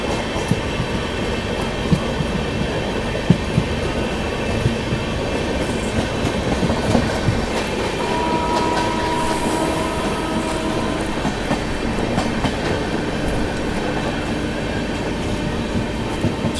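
The Humsafar Express 22437 from Prayagraj to Anand Vihar runs at speed, heard from on board as a loud continuous rumble with rhythmic wheel clatter and brief squeals, with no talk.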